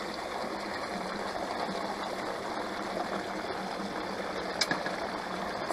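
Water runs steadily through a gold panning sluice, a continuous even rush at close range that holds at the same level throughout, with no voices.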